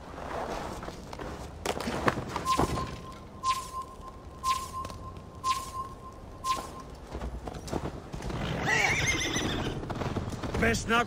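A horse in the video game Assassin's Creed Valhalla gallops with steady clip-clopping hooves and lets out a loud neigh, while characters talk over the riding.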